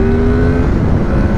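A 2006 Honda VFR 800 VTEC motorcycle accelerating hard away on a damp road, its engine loud and close with a steady rising drone filling the whole moment.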